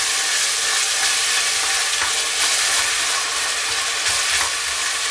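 Minced garlic and onion sautéing in a pan, a loud, continuous crackling sizzle close up with no voices over it.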